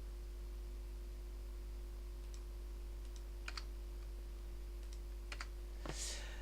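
A few quiet, sparse key presses on a computer keyboard, including the delete key, heard as isolated soft clicks over a faint electrical hum and hiss.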